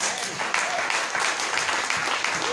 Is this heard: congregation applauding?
yes